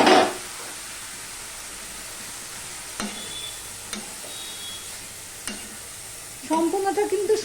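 Pumpkin leaves and stalks hit a pan over a low gas flame, giving a steady soft sizzle with a few brief stirring scrapes and a louder burst of frying near the end.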